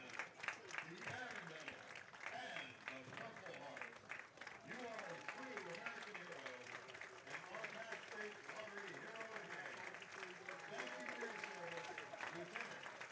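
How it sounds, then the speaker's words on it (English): Large crowd applauding at Red Wilson Field, a baseball field during Y-D vs Harwich, honoring a lieutenant colonel as hero of the game; steady, dense clapping runs throughout while a voice talks over it. "A large crowd on hand here at Red Wilson Field giving our hero of the game a nice round of applause"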